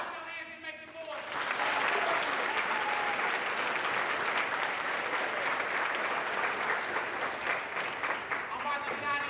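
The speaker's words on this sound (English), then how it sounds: "Clap your hands and make some noise." Dense, loud audience clapping and cheering at a youth town hall for Marquette University college-bound scholars, starting after a brief moment of talk and sustained at full strength.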